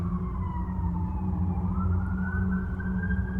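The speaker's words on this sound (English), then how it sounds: "Police sirens in the background." Police sirens wail, rising and falling in the distance over a steady low rumble of traffic in Denver, Colorado.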